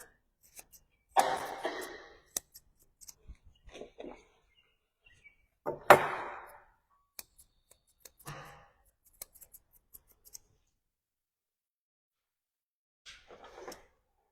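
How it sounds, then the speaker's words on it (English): Scissors trim the ears of a Löwchen dog during a grooming seminar, giving sparse, crisp close snips in small clusters separated by long silent gaps, with a few light handling clicks. "So we'll just kind of go straight across the bottom here and trim up those ears."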